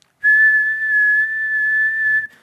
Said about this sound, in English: So if I was to whistle